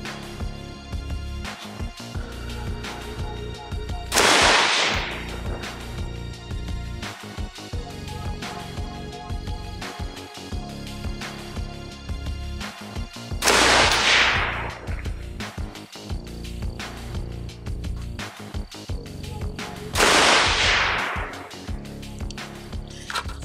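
AR-15 test rounds fire through a prototype 18-inch 1-in-6 twist Green Mountain 416R stainless barrel, three loud, sharp shots spaced several seconds apart over steady background noise.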